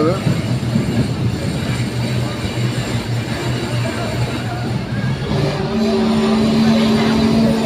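Passenger train braking as it pulls into a railway station in rain, a steady rolling rumble with a rising squeal of brakes toward the end, voices chatting underneath.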